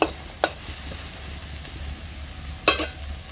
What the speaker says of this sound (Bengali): এটাকে আমি একটু নেড়ে চেড়ে নিচ্ছি।